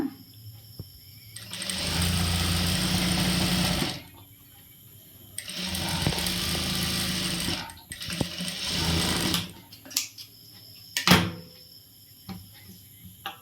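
A tailor's sewing machine stitches a long, even strip of fabric for an umbrella churidar, running in three bursts of rapid whirring separated by quiet pauses, with a few sharp clicks and knocks near the end.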